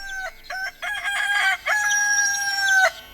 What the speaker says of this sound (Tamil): சேவல் கூவும் ஓசை கேட்டு